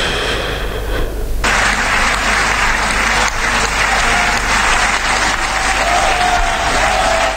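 An audience breaks into loud, sustained applause that starts suddenly and fills the scene steadily, dense clapping close by with no voices standing out.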